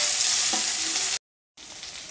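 Vegetables for sambar sizzle and crackle in a hot pan in a loud, steady hiss close by, broken by one brief moment of silence.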